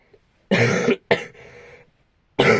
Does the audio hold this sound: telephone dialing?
no